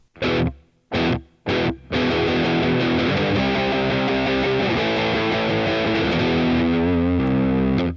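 An electric guitar through a Boss Katana MK2 amp plays three short distorted stabs, then sustained chords ringing out with a wash of reverb trailing behind them.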